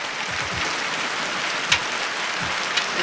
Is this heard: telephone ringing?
no